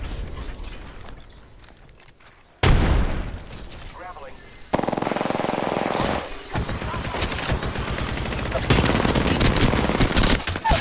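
Gunfire erupts in an Apex Legends fight with a frag grenade thrown, loud rapid automatic bursts cutting in and out in sections, close and intense, with game sounds layered throughout.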